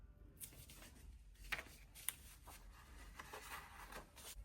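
A pencil redraws over traced lines on graphite-backed paper taped to a painting surface, making quiet, intermittent scratchy strokes with a few sharper ticks, close and faint with no talking.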